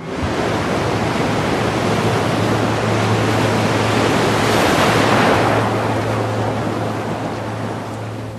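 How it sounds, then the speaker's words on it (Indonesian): Sea waves crash continuously in a loud, broad roar that swells to a peak midway and then eases, with a steady low hum underneath and no talking. "Datang ombak menerjang selama kami mencoba menarik benda dari laut."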